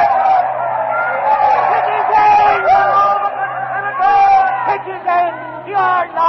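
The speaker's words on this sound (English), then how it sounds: "The crowd is in a frenzy." Crowd of Romans in a frenzy around the body of Caesar, staged as a sound effect: loud excited shouting and whooping voices, agitated babble rising and falling throughout, heard close and alone.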